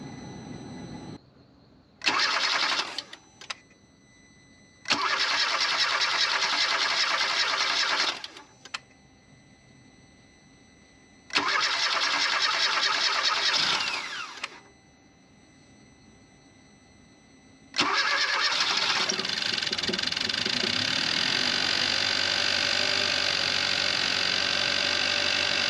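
A Kia Soul engine cranks repeatedly in several long bursts with pauses between, air in the fuel system after injector cleaning, then catches and runs steadily, loud and close.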